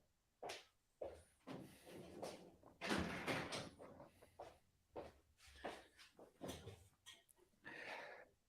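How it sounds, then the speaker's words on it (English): A balcony door being closed gives a series of close, loud knocks, scrapes and rattling thuds spread over several seconds, with no talking. "I'm going to close my balcony door"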